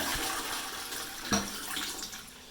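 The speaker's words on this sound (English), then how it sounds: "Let's give it another flush just to prove." A toilet that had been clogged and was cleared without a plunger flushes in a steady rushing wash of water, with a brief gurgling surge partway through, close and moderately loud, with no talk.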